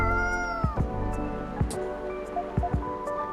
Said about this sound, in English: Are you sniffing me, kitty?